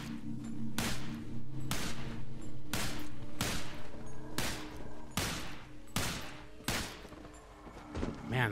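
Glock pistol gunfire in a video game: nine sharp, loud shots fired at a steady pace about one per second, each with a short ringing tail, over a low background hum.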